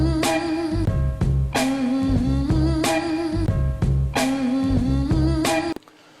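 Boom bap hip hop beat built from looped sample chops, with a hummed vocal line riding over punchy kicks and snares in a steady repeating groove, loud and alone, cutting off abruptly near the end.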